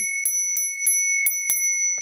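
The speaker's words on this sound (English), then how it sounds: "So that's probably the best bell with regards to amplitude, volume, for the price." A small screw-on bicycle bell rings about six times in a quick, even sequence. Each strike is a bright, resonant, near ding that carries on alone against quiet background hiss.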